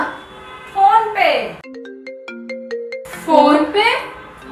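A phone ringtone for an incoming call plays a short, bright, tuneful pattern of clear tones in the middle, with a child and an adult talking just before and after it.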